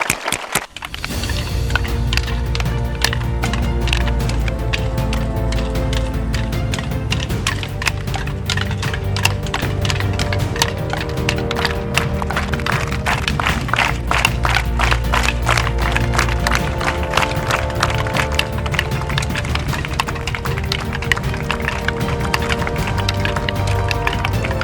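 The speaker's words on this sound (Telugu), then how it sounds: "చెడ్డీ కర్రల కోలాటం అనేది కూడా ఒకటి ఉంటుందన్న విషయం నేను ఈరోజే తెలుసుకున్నా." Many wooden sticks strike together in a chedi karrala kolatam stick dance, a loud, fast, tightly regular clacking that carries on throughout over a sustained tonal backdrop.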